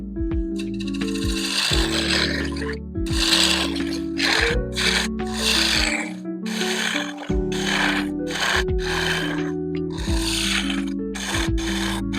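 A half-inch bowl gouge cuts a square walnut bowl spinning on a wood lathe, making a steady loud rasping and scraping with rhythmic catches as each corner passes the tool, with the motor's hum running underneath.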